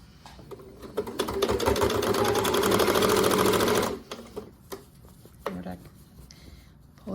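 A sewing machine runs in one steady, fast burst of stitching along the stitch line of a reversible drawstring bag, then stops, followed by fabric handling and a few light clicks and rustles nearby.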